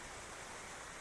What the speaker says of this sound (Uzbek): Yine daryo oqib ketdi.